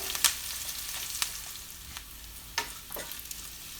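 Small onions fry in hot oil for a Kerala-style mushroom curry, hissing steadily while a spoon stirs them with sharp scraping clacks scattered through, close up and with no speech.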